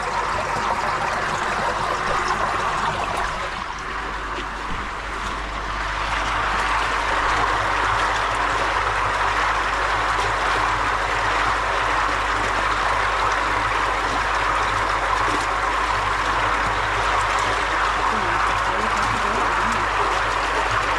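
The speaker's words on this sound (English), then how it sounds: "you can hear it's filling up a lot faster now" Water keeps filling a Filtreau Combi Next pond filter, a steady rushing trickle with a low rumble that continues at an even level, close and unbroken, dipping slightly early on before resuming its constant flow.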